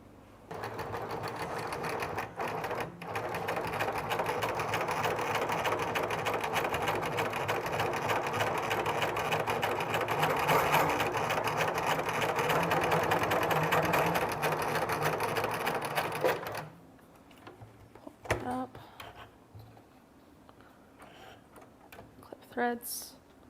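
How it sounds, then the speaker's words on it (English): A sewing machine runs steadily in a continuous rapid whir of stitching on quilting fabric, then stops, leaving quiet clicks and small handling sounds. "Now off to the sewing machine."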